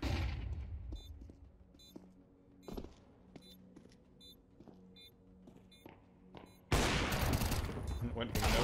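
Desert Eagle pistol shots crack in Counter-Strike, a few sharp isolated reports spaced apart amid faint ticking game sounds, followed by a sudden loud burst of crowd-like noise near the end.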